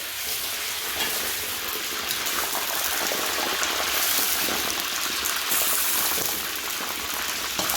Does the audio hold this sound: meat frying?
yes